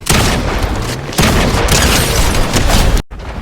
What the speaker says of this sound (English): I just break the wall with my shotgun